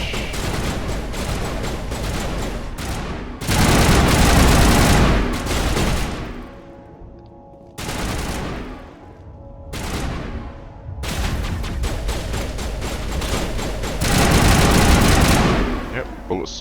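Bursts of rapid automatic gunfire from Mass Effect Legendary Edition, loud and close, come in several sustained volleys with brief lulls between them, mixed with game effects.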